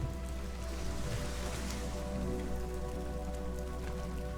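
Steady, dense patter of rain hitting a water surface, constant and enveloping with a low hum underneath.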